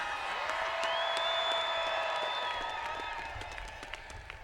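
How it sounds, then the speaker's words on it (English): Inaugural ceremony crowd applauding volunteers, steady clapping and cheering in a large venue, moderately loud and slowly fading, with a voice briefly audible. "Let's have a round of applause for the volunteers."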